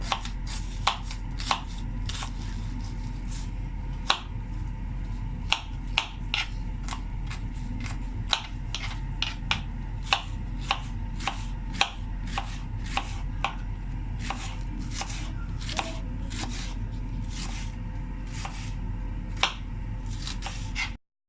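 Potatoes sliced thinly lengthwise with a knife on a board for crispy aloo chicken pakora, a steady run of crisp, close chopping taps at varied pace over a low background, with no voices.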